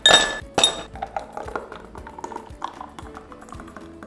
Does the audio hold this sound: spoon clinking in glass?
yes